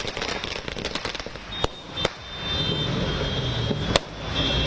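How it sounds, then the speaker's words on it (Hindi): Firecrackers and fireworks going off at a political victory celebration in Maharashtra. A few sharp bangs sit over a steady noisy rumble of the crowd and the street. "उस जीत का जश्न आप देखिए पटाखे जलाकर आतिशबाजी करके ढोल नगाड़ों के साथ नाचकर मनाया जा रहा है।"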